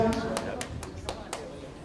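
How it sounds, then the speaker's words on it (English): An audience claps at a Kwanzaa gathering in a Paterson, New Jersey Masonic Temple, giving about six spaced, moderately loud claps with voices and room noise around them. "Clap them on."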